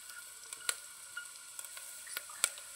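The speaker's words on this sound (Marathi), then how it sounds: "आता त्याच्यात अद्रक लसूण पेस्ट टाकायची आहे" Ginger garlic paste frying in oil with whole spices for masala rice, a soft continuous sizzle with a few sharp clicks of a spoon against the pan.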